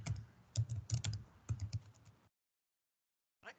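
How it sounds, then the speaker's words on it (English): Rapid typing on a computer keyboard, a quick run of close, crisp key clicks for about two seconds, then silence before a short final burst of keystrokes. "A little too fast on the typing."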